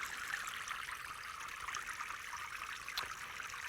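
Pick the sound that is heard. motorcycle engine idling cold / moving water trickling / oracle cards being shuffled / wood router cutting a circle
moving water trickling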